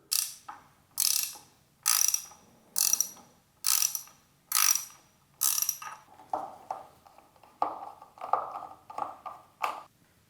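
An 8mm socket ratchet clicks out the clutch lever screw on a CFMOTO 300NK motorcycle: seven crisp, evenly spaced bursts of rapid ratcheting, then quicker, softer clicking strokes, close up with no talking.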